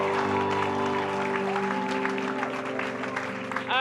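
A church congregation applauds the Lord during a service, with sustained, dense clapping throughout and music playing underneath.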